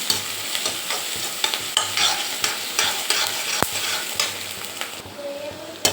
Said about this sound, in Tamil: எல்லாம் ஒன்றா போட்டு நல்லா வதக்குங்க வெங்காயம் வந்து நல்லா ப்ரௌனாக ஆகணுங்க